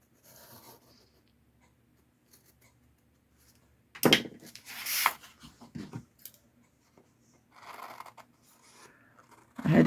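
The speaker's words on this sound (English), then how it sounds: "I had to get my kitchen scissors to cut through that cardboard." Kitchen scissors cut through cardboard in a short burst of crunching, snipping strokes near the middle of an otherwise quiet stretch, with a few faint rustles before and after.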